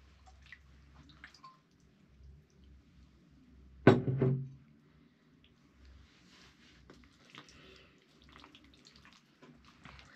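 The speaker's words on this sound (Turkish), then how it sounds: "Arkadaşlar biraz da yoğurt dökelim." Yogurt is poured into a flour, water and egg dough, giving one brief, thick wet splat and squelch midway through an otherwise quiet kitchen.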